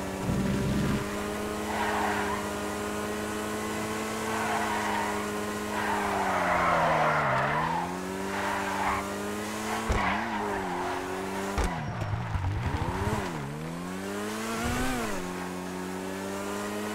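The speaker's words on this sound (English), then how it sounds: "It's got some pretty good drifting capability, so it can definitely do some drifting." A Pipistrello sports car in a driving video game drifts and revs, its engine whine rising and falling over 17 seconds with repeated tire squeals and skids, loud and close with no talk.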